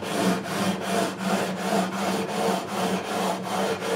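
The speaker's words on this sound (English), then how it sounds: "I'm just going to finish off with the 400 grit now, just smooth it all off." Steady back-and-forth strokes of 400 grit abrasive sanding the frets of a Tanglewood Nashville V TN 5 DCE guitar during a fret level, about eight even rubbing passes, close and alone.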